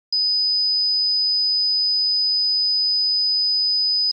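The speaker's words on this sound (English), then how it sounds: "The flame sensor activates one buzzer and one red LED when a flame is detected." An Arduino fire alarm buzzer, triggered by a flame sensor, sounds a steady, piercing electronic tone continuously at one pitch for about four seconds, starting and stopping abruptly with nothing else heard.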